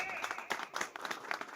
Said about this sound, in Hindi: अरे भाई ताली मत बजाओ